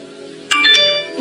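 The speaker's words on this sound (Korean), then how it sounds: "문자가 오네요." A short electronic notification chime on a mobile phone signals an incoming text message, a bright tonal burst of a few notes rising over a low hum, close and fairly loud, with no talking.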